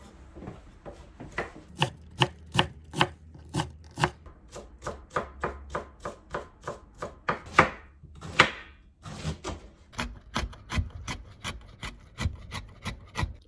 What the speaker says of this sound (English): So I will cut the Lafu tharo in small pieces like this.